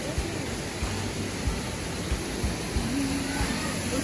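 Steady broadband roar of the Neer Garh waterfall near Rishikesh, a constant rushing wash heard from nearby, with faint voices murmuring underneath.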